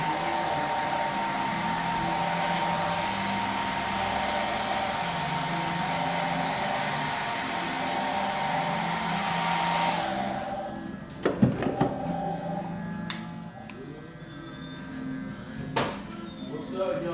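A hair dryer drying hair after holding spray blows as a steady loud whoosh for about ten seconds, then cuts off. Handling noises and people talking follow.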